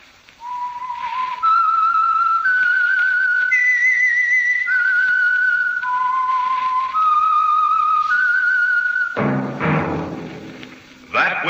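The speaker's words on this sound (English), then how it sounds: "That whistle is your signal." Whistled theme tune of The Whistler, a 1946 radio mystery drama: a lone, clear whistler holds a slow melody of sustained notes, then a loud, dense burst of music swells in near the end.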